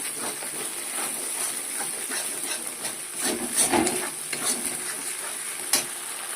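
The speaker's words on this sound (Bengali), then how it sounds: "এবার এটাকে ভালো করে একটুখানি কষিয়ে নেব।" Spice paste with slit green chillies sautés in a pan for a paneer dish, a soft continuous sizzle broken by intermittent scraping stirs, close but fairly quiet, no voices.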